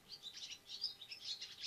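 A bird chirps in a quick series of high, faint tweets, repeated in short bursts over a soft background hush, with no voices over it.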